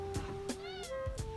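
A cat meows in a faint, drawn-out rising call against a low, noisy background, with a few soft clicks and thumps nearby.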